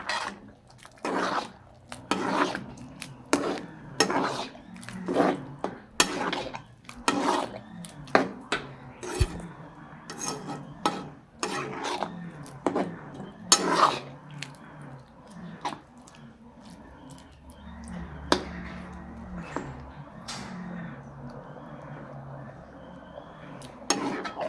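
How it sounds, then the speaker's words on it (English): A spoon stirs a vegetable cookup in a pot, giving repeated scraping and clinking knocks against the metal in an uneven rhythm, close and clear, with a soft background hum. "Give it a stir."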